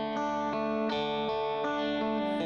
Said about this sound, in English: So it's same guitar, but now no distortion, totally clean, and using that same bridge and middle.